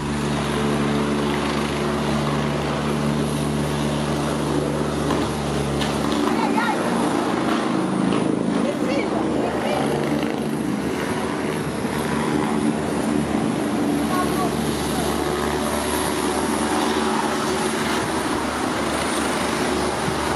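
Rescue helicopter on a training exercise near high-voltage power lines, its steady rotor and engine drone loud and continuous throughout, with a slight shift in tone partway through.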